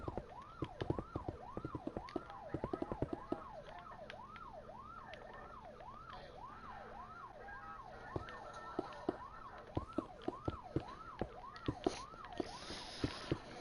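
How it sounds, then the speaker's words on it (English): A police car siren in Minecraft wails in a rapid, repeating up-and-down pattern, steady and prominent, with scattered sharp clicks and knocks over it. "That is the most annoying cop siren I've ever heard."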